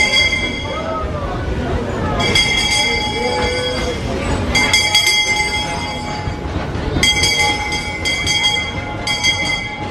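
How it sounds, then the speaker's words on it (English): Disneyland Railroad train pulling into Main Street Station at Disneyland Paris, with rumbling wheels and bright metallic squeals and ringing tones rising over the low roar of a busy crowd. "There's something so magical about just standing in the station and watching the Disneyland Railroad arrive."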